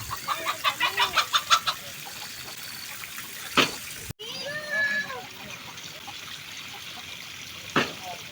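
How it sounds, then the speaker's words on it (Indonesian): A rapid run of chicken clucks opens the clip, followed by scattered squawks and calls amid outdoor ambience, with a couple of sharp bursts of noise. "Suara ayam."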